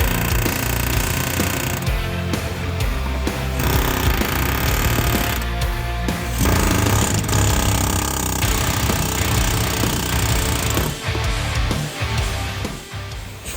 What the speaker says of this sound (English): I love an air hammer. It's like a little mini jackhammer.